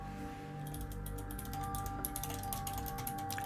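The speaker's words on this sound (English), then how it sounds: "Apologies if you can hear my typing." Fast, uneven clicking of keys on a computer keyboard, close and fairly soft, running steadily through the moment over a low constant background hum.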